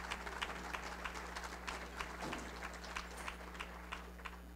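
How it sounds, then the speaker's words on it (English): A hall audience applauds a guest speaker at an evening event, a faint, steady patter of scattered clapping hands with sharper individual claps, heard at a distance over a low electrical hum. "Now you can clap for our speaker tonight"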